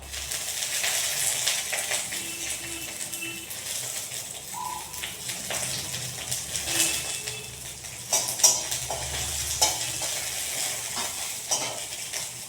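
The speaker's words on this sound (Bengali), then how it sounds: "রসুনটা ভাজা মধ্যে দিয়েছি এবার দিয়ে দেবো কাঁচা লঙ্কা আর ধনে পাতা" Green chillies and coriander leaves sizzle in a pan with fried garlic, a soft, steady frying hiss broken by stirring scrapes and a few louder clatters near the end.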